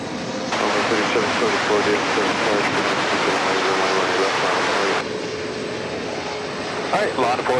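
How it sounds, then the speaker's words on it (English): A Japan Airlines Flight 12 jet airliner arrives at DFW Airport on its second landing attempt after a go-around, a loud, steady broadband engine roar that holds for several seconds, then drops to a lower rumble with faint chatter at the end. "catch the arrival of Japan Airlines Flight 12"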